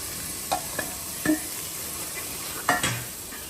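A few sharp scraping clatters of stirring in a pan over a steady, soft sizzle of tikkis frying in oil, with short gaps between strokes.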